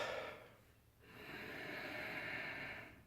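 A slow, deep belly-breath inhale drawn in through the nose during a three-part breathing exercise, soft and close, briefly pausing before a steady, airy intake that swells and holds with no talking.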